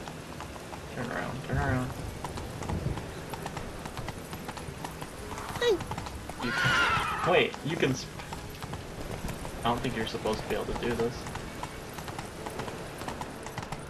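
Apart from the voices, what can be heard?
horse hooves clip-clopping, Roach in The Witcher 3 video game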